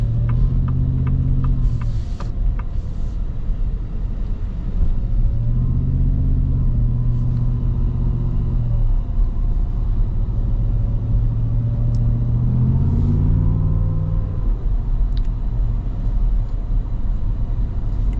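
Deep, steady engine rumble heard from inside a moving 2025 Shelby F-150 pickup truck, with the tone rising and easing as the throttle changes, continuous throughout.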